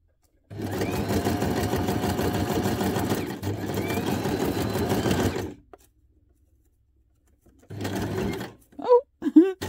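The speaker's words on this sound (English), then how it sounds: "I think I'm going to just switch over to a straight stitch. And just sew around and around." A sewing machine runs a straight stitch through small paper scraps in two steady bursts of rapid, close, loud stitching, then stops; a few faint clicks and bumps follow as the work is handled.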